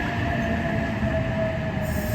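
A train pulls into a station in Australia with steady rumbling and a sustained squeal of wheels on the rails, loud and close, with no voices.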